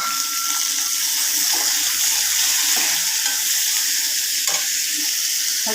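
Chopped onion and tomato sauté in a hot pan for a beetroot stir-fry, giving a steady close sizzle with occasional stirring scrapes throughout, no voices.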